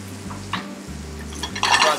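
Asparagus tips, heirloom mushrooms and tomatoes are sautéed with browned bacon in a pan, giving a brief stirring scrape, then a sizzle that swells toward the end over a low hum.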